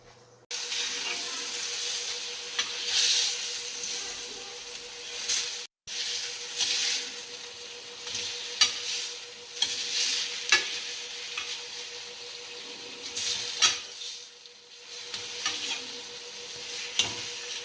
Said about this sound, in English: Now, spread the butter evenly on the pan.